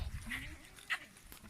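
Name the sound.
goats bleating in a herd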